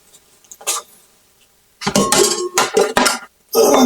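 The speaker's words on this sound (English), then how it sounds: "Let me get grandmother's mixing bowl" A grandmother's mixing bowl clinks and clatters as it is handled among kitchen dishes, a few sharp knocks and rattles separated by near silence.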